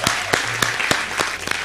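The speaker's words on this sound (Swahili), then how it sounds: "Mpigeni makofi" A church congregation at a prayer and fasting service claps in a short, steady burst of applause, with regular sharp claps standing out over a continuous crowd wash.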